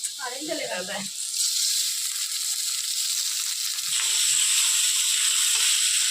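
Rice frying and being stirred in a pan for khichuri, giving a steady hiss and sizzle after a brief opening voice, with faint stirring knocks beneath.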